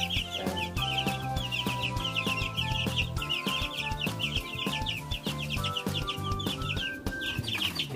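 Chickens cluck repeatedly in a busy, close chorus, with sharp tapping and pecking noises scattered throughout.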